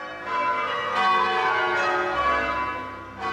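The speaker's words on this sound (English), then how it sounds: "Change ringing developed in English church towers, which contain a few large bells rigged to swing freely." Large church bells in an English tower ring changes together in overlapping, sustained tones, with fresh strikes landing every second or so and a long shimmering hum between them.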